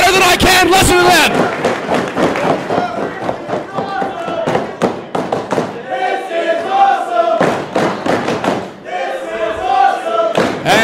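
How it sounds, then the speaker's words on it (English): A live crowd at an independent wrestling match cheers and chants in loud bursts, with shouts, thumps from the ring and claps rising and falling throughout. "Listen to the crowd. They're loving it."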